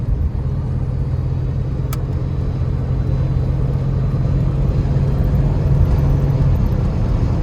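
A 1986 Chevy Suburban drives along with a steady, loud engine drone and road rumble, its gear changes blending into the continuous low hum, with one brief click and no talking.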